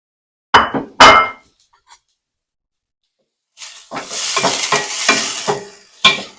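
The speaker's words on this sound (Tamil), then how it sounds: "கட் பண்ணி வச்சிருக்கிற வெங்காயம் பச்சை மிளகாய போடுவோம்." Chopped onion and green chilli dropped into hot oil in a pan, two quick clattering hits, a pause, then a loud close sizzle that rises and holds with stirring scrapes.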